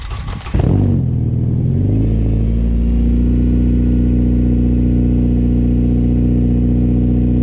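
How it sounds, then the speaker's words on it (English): A JDM Honda K24A car engine turns over and catches, then settles into a steady, loud idle hum that continues evenly without voices. "Here we have an engine bay equipped with a JDM K24A engine"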